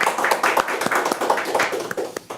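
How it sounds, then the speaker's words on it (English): A studio audience welcomes cricketer Dinesh Karthik with applause: scattered, uneven hand claps from a modest crowd, close and moderately loud, thinning out toward the end. "Please welcome him with a warm round of applause."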